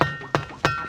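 Three sharp taps on a rock in quick succession, each a bright clicking knock with a short ringing tail, close and fairly loud.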